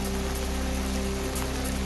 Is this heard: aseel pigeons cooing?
no